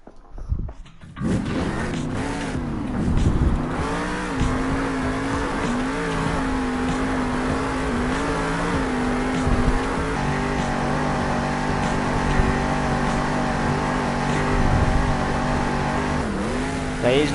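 The Alien Invasion monster truck at a Monster Jam arena event in Salt Lake City fires up and revs hard, its loud engine rising in repeated throttle bursts and sustained roars echoing through the arena.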